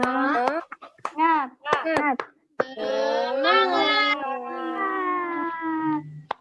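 Children in a third-grade classroom perform the tepuk semangat clapping chant, with sharp, close hand claps in quick bursts followed by loud chanted and sung voices that run on together.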